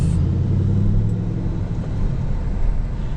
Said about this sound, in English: let's go for a ride in my 5th gen Camaro SS